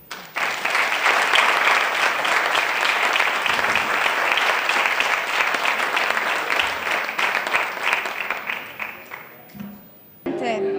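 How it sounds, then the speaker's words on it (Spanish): Sustained audience applause fills a lecture hall at a mystery-themed talk in Mazarrón, Murcia, holding steady for about nine seconds before fading out; a voice then resumes speaking. "un aplauso para vosotros y a mi compañero y a Antonio."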